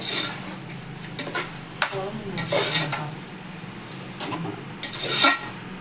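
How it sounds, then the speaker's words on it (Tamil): Mushrooms stirred and sautéed in hot oil for mushroom biryani, with a soft steady sizzle under repeated scraping and clinking of a spoon against the pan, close by. "போட்டு எண்ணெயில் நல்லா வதக்கி மிக்ஸ் பண்ணி விட்டுருணும்"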